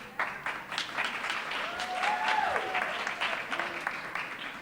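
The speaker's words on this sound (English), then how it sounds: "Yes, please, a round of applause." A packed-house audience at a talk in Brooklyn bursts into dense, continuous applause that stays full and steady throughout, with a faint voice showing briefly underneath.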